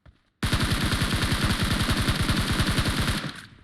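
SCAR-L rifle gunfire in PUBG Mobile: after a brief faint sound and a short pause, a loud, rapid automatic burst of evenly spaced shots fires continuously for about three seconds, then cuts off with a short tail.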